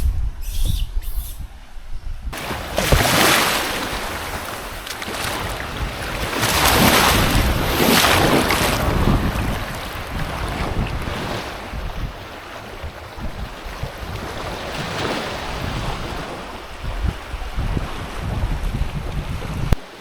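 Waves wash steadily onto a sea beach at Khao Laem Ya–Mu Ko Samet national park, with wind buffeting the microphone in loud gusts and the surf rolling continuously underneath, no voices present.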